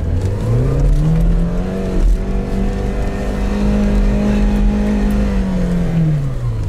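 A Lada Niva labours uphill through a forest, its engine holding a loud, strained drone that climbs and dips slightly in pitch as it accelerates, close and dominant the whole time.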